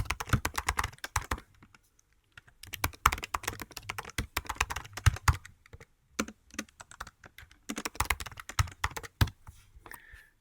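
Rapid typing on a computer keyboard, close and crisp, comes in quick bursts of keystrokes separated by short pauses, with no talking over it.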